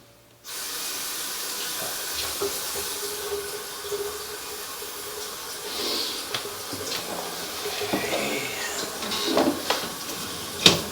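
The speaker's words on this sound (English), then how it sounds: "We're going to run some water so we can check for flow and begin." Water runs steadily through a drain line during a sewer camera inspection, giving a continuous hiss with occasional faint clicks and knocks over roughly eleven seconds.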